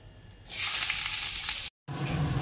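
Onion hits hot oil in a pan before greens are cooked, bursting into a loud, bright sizzle that holds steady for over a second, cuts out briefly, then resumes more quietly.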